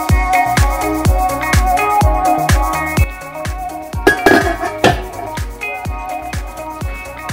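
A fork fluffs cooked dill basmati rice in a pot, giving a steady run of bright metallic clinks and taps against the pot at close range, along with a lid clattering as the pot is covered, and no one speaks.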